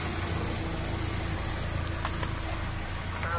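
A car engine idles steadily during an engine oil treatment test, producing a constant low, even hum with a faint tick or two and no speech.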